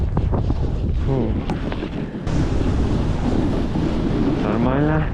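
Wild mountain blizzard wind at around 100 km/h roars steadily and buffets the microphone, with a voice speaking faintly underneath.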